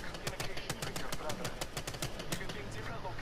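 Rapid single-fire weapon shots from a long-range gun in the shooter game Apex Legends, sharp evenly spaced cracks in a quick, steady rhythm with little pause between them.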